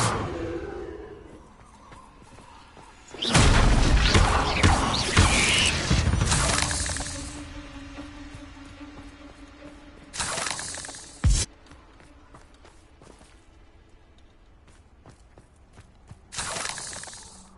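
A Confringo fire spell from Hogwarts Legacy erupts in a loud, crackling, shattering blast lasting a few seconds, followed later by two shorter bursts and a sharp crack.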